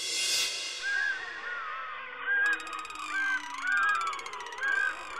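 A duck quacks in a Bengali TV serial scene: about five loud, nasal honking calls in an uneven rhythm, close and clear over a thin background tone.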